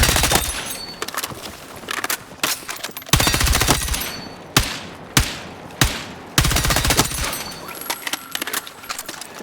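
Custom-built weapon firing in the video game Battlefield 6: loud close bursts of rapid automatic fire with metallic clatter, separated by several single sharp shots and brief pauses.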